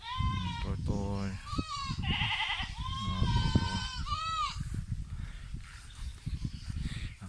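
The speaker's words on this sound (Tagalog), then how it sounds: "Ang ingay ng kambing." Goats bleat repeatedly and loudly, several wavering calls overlapping in quick succession, with people talking underneath and around them.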